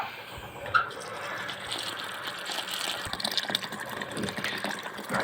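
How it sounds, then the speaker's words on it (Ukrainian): Water pours steadily into a bucket of wheat grain for several seconds, a continuous splashing rush with faint knocks, no voices. "І заливаю водою."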